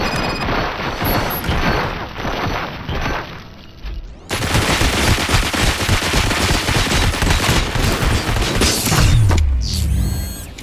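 Sustained automatic gunfire in the Robocop: Rogue City video game, loud and close, with bursts rattling continuously and a brief pause before the shooting resumes with mechanical clanks.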